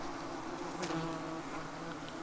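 Yellow jacket wasps buzz inside a removed nest, a steady, close, low drone with one brief louder flutter, and no voices.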